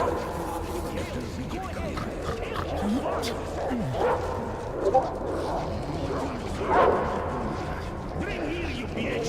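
Dog barking and whimpering in the video game Metro Exodus, several sharp yips and barks mixed with growls, shouting and game noise over a busy background.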